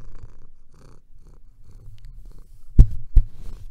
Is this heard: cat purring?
yes